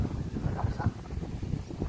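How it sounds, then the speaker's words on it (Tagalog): Strong wind gusts from Typhoon Carina buffet the microphone outdoors, a low rumbling roar that swells and dips without rain. "Ang tindi ng hangin, buti walang ulan."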